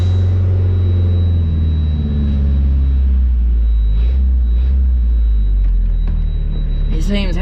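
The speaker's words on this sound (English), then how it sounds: "We'll give him a couple revs." A loud, close Ford engine on a West Australian farm rumbles heavily, swelling with a couple of revs, while a voice speaks over it.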